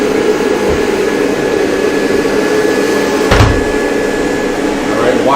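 A vacuum cleaner runs steadily with a loud, constant motor drone and airflow hiss, close by, with a brief thump partway through.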